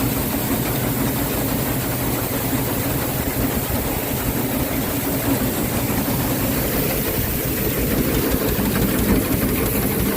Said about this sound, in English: we got another motor on it. A lot bigger motor. Seems to be having no trouble.